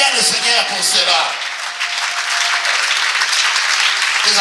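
A church congregation cheers and applauds, a dense roar of clapping and voices close and loud throughout, dipping slightly midway before swelling again.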